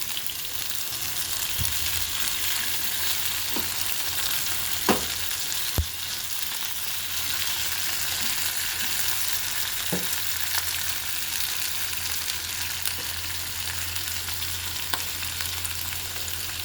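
Two small tomatoes drop into onions already frying in a pan, setting off a steady, close sizzle broken by a few sharp stirring clinks.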